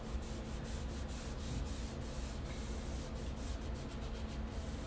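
Cloth or pad rubbing wax off chalk-painted furniture, a continuous soft, even scrubbing hiss in quick back-and-forth strokes, faint and close, with no voices.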